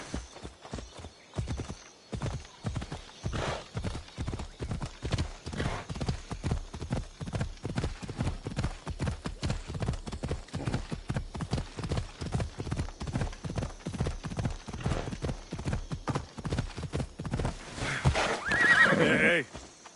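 A horse in Assassin's Creed Odyssey gallops in a fast, steady clip-clop rhythm of hoofbeats, near and continuous, ending with a loud whinny near the close.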